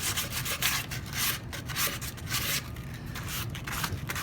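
Sandpaper rubs over the wood of a DIY toolbox being distressed, in repeated scratchy back-and-forth strokes with short pauses between bursts, close and fairly loud.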